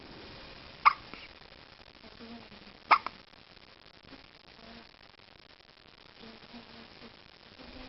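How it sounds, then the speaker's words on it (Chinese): A little girl hiccups twice, sharp and close, a couple of seconds apart, in an otherwise quiet room. "妹妹在打嗝了。"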